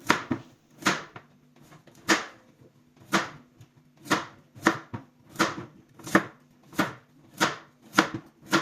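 A knife chops taro steadily on a cutting board, about a dozen crisp knocks at a regular, unhurried pace with no voices.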